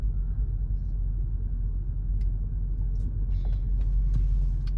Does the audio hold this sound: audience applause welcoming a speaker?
no